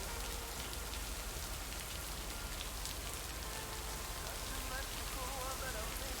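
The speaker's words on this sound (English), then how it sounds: "listen to the rain sounds and everything" Steady rain in the video game Lake, a soft continuous patter of drops falling on surfaces throughout, with faint voice or game sounds mixed in beneath the wash.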